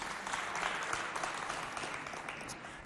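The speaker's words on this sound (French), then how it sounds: "Applaudissez pour vous." Steady crowd applause at a Zénith-style concert hall show, continuous clapping from a large audience that holds even throughout, with a sharp louder burst right at the end.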